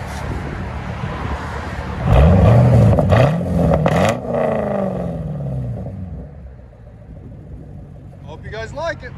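Loud revs rise and fall from a 2012 Chevy Camaro SS convertible's 6.2L V8 through straight-pipe dual exhaust with muffler and resonator removed, settling into a deep burbling idle while someone speaks near the end.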